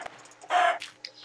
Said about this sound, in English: This is a new chicken.